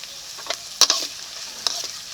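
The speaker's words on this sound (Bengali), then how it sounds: "এখন পেঁয়াজটাকে ভালো করে ভেজে নেব" Chopped onion fries in melted butter in a pan, giving a soft continuous sizzle broken by a few sharp clicks and scrapes from stirring, close up with no talking.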